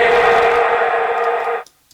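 A sustained synth tone passes through a quarter-note delay and reverb in Ableton Live, holding loud and steady before cutting off sharply, leaving a brief faint echo tail.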